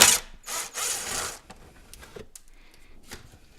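A power tool backs out a screw holding the bumper splash shield on a Lexus IS, giving three quick close whirring bursts followed by faint clicks and handling noises.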